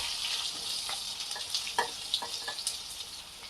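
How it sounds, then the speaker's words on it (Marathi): Onion cooking in hot oil with cumin seeds gives a soft, steady sizzle with scattered small crackles and scrapes from stirring. It stays fairly faint, close and alone. "त्याच्यामध्ये आता कांदा घालून घेऊ"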